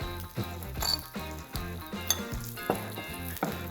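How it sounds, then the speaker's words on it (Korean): Garlic stir-frying in a pan while cooking a Spanish rice dish, with a steady faint sizzle running under loud background music. "마늘을 여기서 또 볶아주세요."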